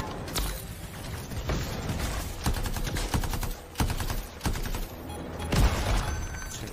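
Rapid bursts of gunfire and explosive impacts from the Anthem video game, with repeated sharp cracks and dense volleys dominating throughout at a steady loud level.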